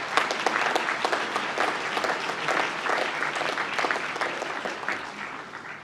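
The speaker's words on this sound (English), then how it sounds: "Let us give a round of applause to the graduates who have just been presented." An audience at a university graduation presentation ceremony applauds graduates, a dense, steady wash of many hands clapping that fills the hall, close and sustained without talk.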